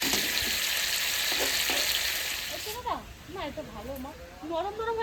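Bengali vegetable chorchori simmering in a pan hisses loudly as a little water is added; the sizzle rushes for about three seconds, then fades while someone talks over it.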